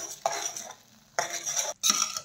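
A spoon stirs jaggery melting with a spoonful of water in a pan, scraping in three distinct bursts separated by brief pauses, close and fairly quiet with no voices.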